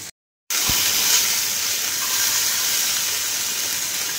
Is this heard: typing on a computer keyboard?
no